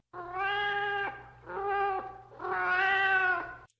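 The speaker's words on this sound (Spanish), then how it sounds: "El maullar de un gato que provenía del oscuro callejón llamó mi atención." A cat meows in a dark alley at night, three drawn-out wailing cries, the last the longest and loudest, close and clear over a low steady hum.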